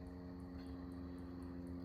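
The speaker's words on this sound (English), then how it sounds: "Yeah, airplane's going over right now." An airplane passing overhead on a quiet night above a cemetery, a faint, steady, distant engine drone with a low hum holding throughout.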